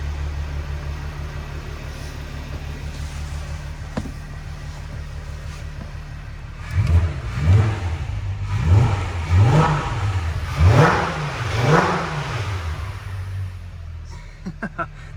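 A Volkswagen Passat R36 wagon engine idles, then revs repeatedly in rising and falling surges, about five quick pulls before settling back.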